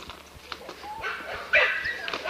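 Several dogs in a kennel yard bark and yip, the barking building to a louder close burst, with someone talking over the din.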